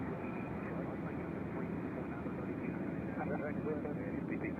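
A steady, broad roar from an airplane at Nashville International Airport, probably a parked or taxiing jet near the maintenance area, holds at even loudness throughout with no clear rise or fade.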